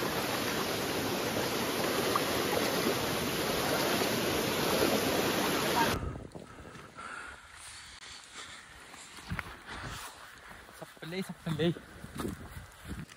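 A rural stream being crossed on foot roars with loud, steady rushing water for about six seconds, then gives way to a quieter scene with voices and faint background sounds.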